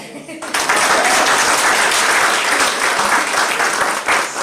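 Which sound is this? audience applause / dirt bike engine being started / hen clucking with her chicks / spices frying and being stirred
audience applause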